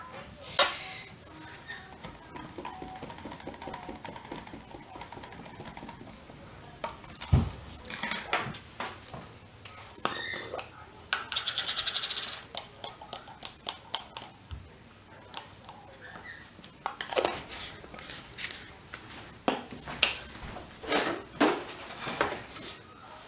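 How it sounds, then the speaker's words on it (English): Powdered titanium dioxide being mixed up for homemade soap, with irregular clinks and scrapes of utensils against a container, moderately close, a few louder knocks scattered through and no talking. "just mixing up some titanium dioxide"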